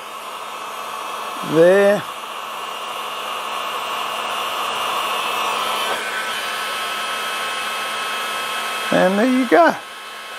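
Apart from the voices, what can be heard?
heat gun melting beeswax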